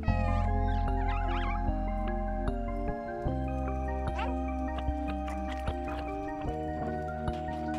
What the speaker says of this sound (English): Meow to attract enemies.